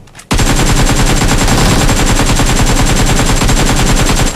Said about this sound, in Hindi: यहाँ पर ये बंदा नीचे की तरफ फायरिंग चालू करता है